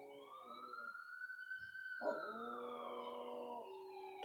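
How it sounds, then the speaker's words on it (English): A dog howls along with a police siren passing down a street, long rising and falling wails overlapping the siren's sweeping tone, moderately distant and without talk. "It's a siren going down the street and the dog standing up howling at it."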